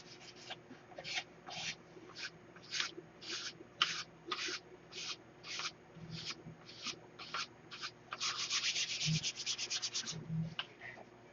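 Sandpaper is rubbed over balsa wood in a model-building hangar, making soft rhythmic scratchy strokes that quicken into a rapid burst near the end, faint and close.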